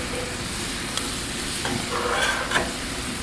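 Apples and pastries sizzle steadily on a hot griddle, with a few soft scrapes and taps as they are flipped, close and alone without talk.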